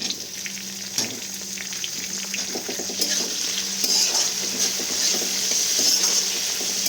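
Onion fries in a pan for a broccoli masala, a steady loud sizzle filling the clip with scraping stirring strokes running through it and no talk.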